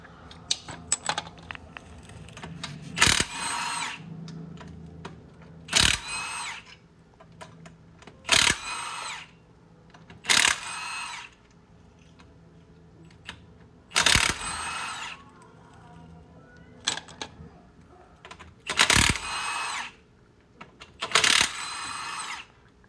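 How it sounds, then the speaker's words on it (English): Lug nuts coming off the front wheel of a Chevy Express van with a 22 mm socket: repeated loud bursts of a ratcheting or impact tool, each a few seconds long, separated by quiet gaps and occasional metallic clinks. "I'm gonna move on to the lug nuts, which are also a 22 millimeter or a 7/8."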